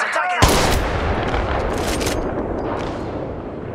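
Gunfire in the mobile battle-royale game Apex Legends Mobile: a sharp shot cracks early, followed by a dense, sustained burst of rapid firing and rumbling, loud and close throughout.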